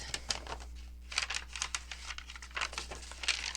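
Sheets of paper are folded and creased by hand to form an envelope booklet for a junk journal, giving soft, close crinkles and rustles in a few short bursts with no talk.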